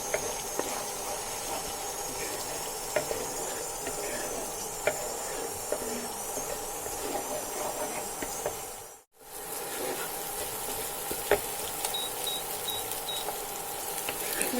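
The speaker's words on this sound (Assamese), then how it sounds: "এইখিনি মই এতিয়া কম ষ্টিমত ভাজি লম।" Paneer coated in nut paste fries gently over low heat, giving off a steady soft sizzle and hiss. Occasional light stirring clicks sit on top, and the sizzle drops out briefly partway through.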